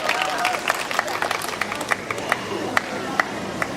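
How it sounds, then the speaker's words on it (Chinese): Audience applause and crowd noise at a live concert at the Taoyuan Wild Rose rock music awards, a steady wash of clapping with sharper claps and cheers, spread through the crowd, with voices mixed in. "掌声欢迎"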